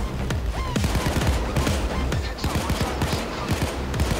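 Dense gunfire rings out in the video game Payday 2: many overlapping shots crackle in rapid, irregular bursts throughout, loud and busy.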